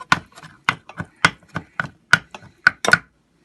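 A knife chops dried spinach on a cutting board in about ten sharp, close, evenly spaced strokes, each a crisp thud with silence between.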